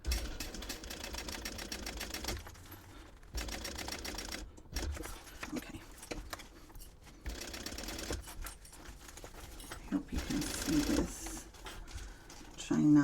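A sewing machine topstitches a purse, its needle chattering in several runs of a few seconds each with short pauses between them.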